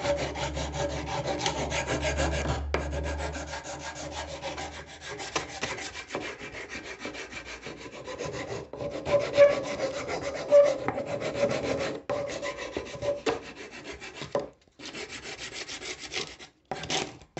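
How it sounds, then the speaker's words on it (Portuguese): Wooden doll sanded by hand with coarse 80 grit sandpaper, a close rasping rub in repeated strokes with brief pauses between passes, alone with no talking. "Agora vamos lixar o bonequinho, deixar ele todo certinho. Faz com uma lixa mais grossa, uma lixa 80"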